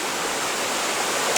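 A creek rushes steadily in a wintry Wellington hunting setting, a loud continuous wash of flowing water heard close by with no voices.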